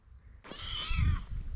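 A cat gives a single clear meow, rising and then falling, fairly close and loud, with quiet background before it and low rumbling noise underneath.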